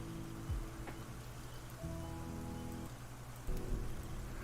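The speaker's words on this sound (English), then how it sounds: "maybe the rain sound is doubled up" Steady rain background noise plays continuously at a moderate level, alone with no talk, with a few faint tonal layers and a slight swell near the end.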